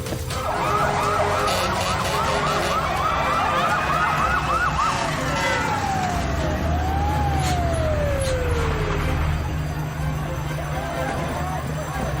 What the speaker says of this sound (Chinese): 里面刚才火警警报了